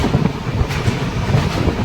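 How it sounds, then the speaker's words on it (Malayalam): A train crosses a long bridge of about four kilometres over the Narmada river, heard from on board as a steady, continuous rolling rumble with faint clatter and wind, and no talking. "നർമ്മദ നദിയുടെ മുകളിലൂടെയാണിപ്പോൾ നമ്മുടെ ട്രെയിൻ കടന്നുപോയിക്കൊണ്ടിരിക്കുന്നത്"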